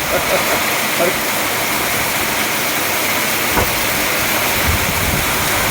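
Heavy monsoon rain pours down over a residential society in Porbandar, a steady, dense hiss of falling water and runoff that holds level throughout the whole stretch, with no voices.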